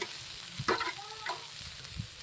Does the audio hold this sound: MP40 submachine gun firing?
no